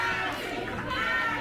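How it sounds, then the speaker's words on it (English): Wild crowd noise at a Blaze Pro Wrestling event, a dense, steady roar of cheering and shouting filling the whole moment, close and loud. "And the crowd coming unglued here."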